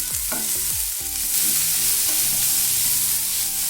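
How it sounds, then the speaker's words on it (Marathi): Fenugreek (methi) leaves with salt are sautéed in a pan over high heat: a constant hot sizzle with rhythmic spatula scrapes and stirring strokes, close and fairly loud, with no voices. "फक्त एक ते दोन मिनटे मेथी यामध्ये परतून घ्यायची आहे"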